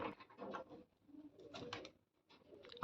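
Red pigeons cooing softly at close range, a few short throaty coos separated by brief pauses, alone and fairly quiet.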